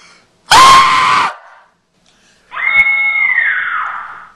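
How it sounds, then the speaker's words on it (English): A woman's high, piercing scream, edited in as two loud bursts: a short sharp shriek, a pause, then a longer wavering scream. "I totally didn't edit a real girl scream over that or anything."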